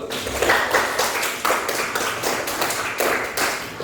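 A classroom group breaks into applause during a teaching assessment session, dense overlapping hand claps filling the room steadily and fairly loudly for several seconds with no talk.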